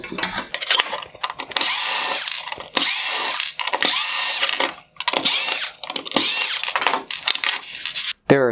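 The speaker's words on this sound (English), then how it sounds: "I'm going to remove the five T20 screws holding this reflector in place." A power driver whirs in repeated bursts, backing out T20 screws from the reflector of a 2014-2016 Mercedes-Benz E400 LED headlight, with brief pauses between each loud, close run.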